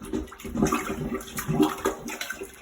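Water sloshes in a toilet pan as a plunger is pushed slowly in the middle to clear a blockage, giving a few close rhythmic gurgling surges and splashes.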